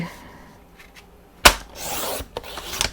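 A paper trimmer slices through white cardstock: a sharp click is followed by a short, raspy scrape as the blade slides along, close by and with no talking.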